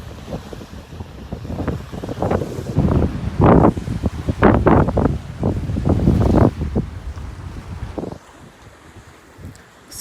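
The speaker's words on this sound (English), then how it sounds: "I know it's windy and you may not have heard me" Strong gusty wind at the beach buffets the microphone in loud roaring bursts, with a dull background rush of surf, easing near the end.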